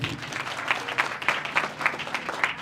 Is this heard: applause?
yes